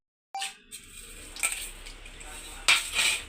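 Cumin, fenugreek, garlic and dried chilies hit hot oil for a tomato curry tempering, a sudden sizzle followed by soft crackling and a few metallic stirring clinks against the pan, close and fairly quiet.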